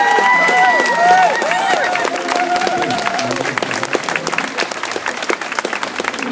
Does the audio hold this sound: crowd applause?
yes